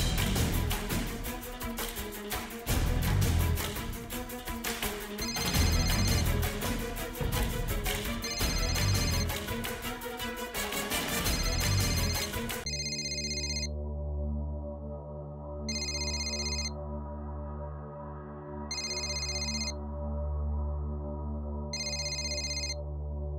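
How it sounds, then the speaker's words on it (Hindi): A telephone rings out in repeated, evenly spaced bursts after a stretch of background music, each ring loud and close while the call waits to be answered. "तू फोन लगा ना बेटा।"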